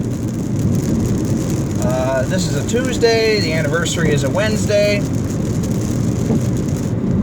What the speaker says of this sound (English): it's raining outside now